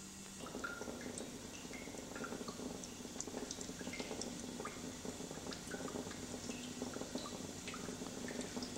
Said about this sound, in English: the fig brandy is pouring